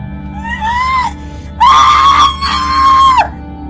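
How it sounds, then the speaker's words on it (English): A person screams loudly in three sustained, high-pitched bursts, the second and third the strongest, with short breaks between them and no other talking. "Why are you screaming when I haven't even cut you yet?"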